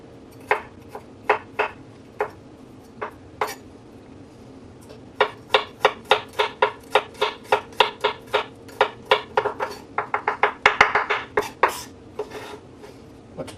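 A large clove of garlic minced with a knife on a cutting board, sharp rapid taps that start sparse and irregular, then settle into a quick steady rhythm, close and crisp with no talking.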